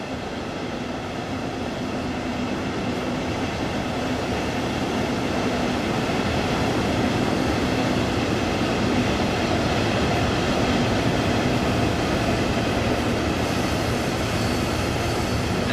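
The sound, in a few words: train arriving at station, Train Sim World 2 video game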